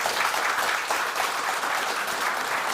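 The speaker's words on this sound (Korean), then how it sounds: "먼저 큰 박수" Steady, dense applause from an audience at a Korean defense industry society breakfast forum, filling the room at close range without a break.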